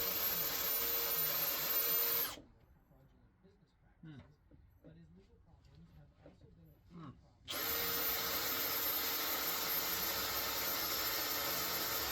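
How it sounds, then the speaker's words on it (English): 8mm spot weld drill bit boring out spot welds in an EF Civic sedan car body, a loud high-pitched drill whine in two bursts around a quieter middle gap where a voice speaks. "Spot welder bit, 8mm. Check it out. Spot welds."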